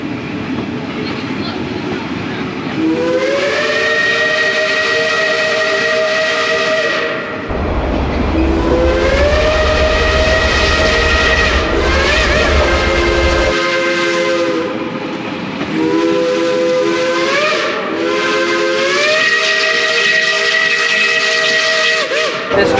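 Climax steam locomotive No. 9 at Cass Scenic Railroad, a geared logging engine, sounds long sustained multi-tone whistle blasts over a steady steam hiss, loud and close, with a deep rumbling burst partway through.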